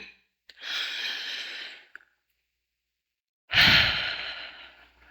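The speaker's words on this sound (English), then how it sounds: "Take a breath, seriously, a deep one." A person breathes deeply: a long, close inhale, a pause, then a louder, breathy exhale that fades slowly.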